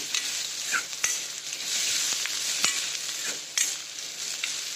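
Mashed potato filling for bread potato vada roasting in a hot pan while being stirred, giving a bright, steady sizzle with sharp spatula clicks and scrapes at irregular intervals, close and unaccompanied by speech.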